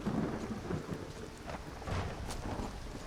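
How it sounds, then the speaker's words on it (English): Rain pours steadily in a Skyrim game world while thunder rumbles, swelling loud at the start and again near the end, with no voices over it. "Speaking of rain, it's raining again."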